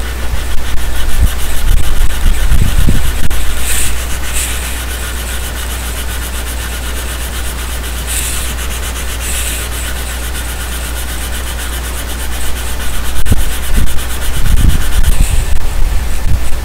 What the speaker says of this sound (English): I do suppose I better sand that up a bit though.